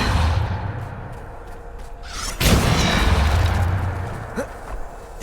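A Depulso spell strikes in Hogwarts Legacy, landing as one heavy, close boom that swells out of a low rumbling backdrop and then decays slowly into a lingering roar.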